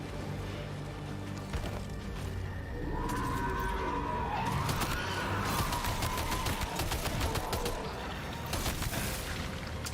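Video game gunfire rattles in dense rapid bursts over a constant wash of noise, with sustained firing through the second half amid other game sounds.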